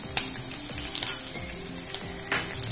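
Crushed ginger and garlic stir-fried in hot oil for a Kerala-style prawn roast, giving a steady sizzle broken by repeated scraping strokes of a spoon against the pan, close and clear.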